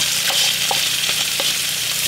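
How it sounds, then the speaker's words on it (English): Lion's mane mushrooms with cayenne fry in a pan, making a loud, close, even sizzle with soft crackles and faint stirring scrapes throughout, no one talking. "I actually ain't got no foil, y'all, so I have to do these in a pan"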